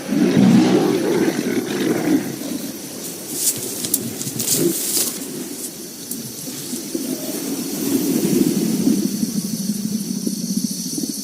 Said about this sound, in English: in the end, it is the loudest roar that wins.